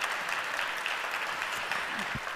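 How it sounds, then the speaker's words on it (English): An audience at a talk on social media branding claps in steady, dense applause, loud and continuous throughout. "you can clap her"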